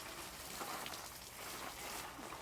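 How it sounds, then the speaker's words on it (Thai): Steady rain falls in a dense, broadband hiss, loud and continuous, with no distinct thunder or wind gusts standing out. "ฝนตกแล้วก็ลมแล้วก็ฟ้าห้องอีก"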